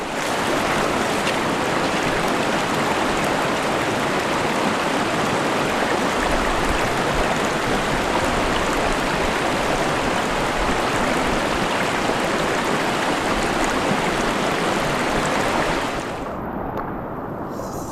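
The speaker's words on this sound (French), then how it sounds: "c'est très agréable en tout cas de marcher dans l'eau" River water rushes loudly through a canyon on Réunion as someone wades along the stream, a dense, steady roar of flowing water close by that eases only in the final seconds.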